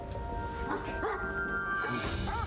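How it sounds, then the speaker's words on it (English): A dog barks a few times at a distance, faint and muffled, over a steady background hum. "there's that barking that was mentioned"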